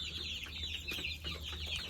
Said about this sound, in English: Not really sure what kind of chickens these are. I just know it's some type of chicken.